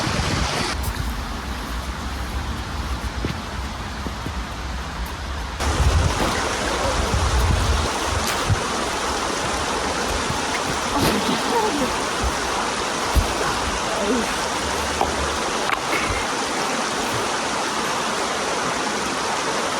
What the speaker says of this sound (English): the stream actually continues down this way